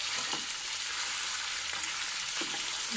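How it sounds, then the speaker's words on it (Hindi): Meat frying in a pan over browned onions, a steady bright sizzle running throughout with a few soft stirring scrapes, close and continuous with no voices. "इसे अच्छे तरीके से फ्राई करेंगे 5 मिनट तक।"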